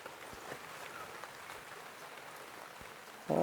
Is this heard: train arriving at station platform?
no